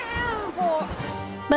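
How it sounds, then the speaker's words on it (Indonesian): A cat meows in a few drawn-out, wavering cries, close and clear, with a final short sharp meow at the end. "Nori berubah menjadi seekor kucing"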